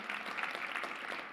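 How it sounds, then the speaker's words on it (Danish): Audience applause at a library policy summit, a dense, steady wash of many hands clapping together through the whole moment, with no voices over it. "I har allerede glemt det der med at klappe ordentligt"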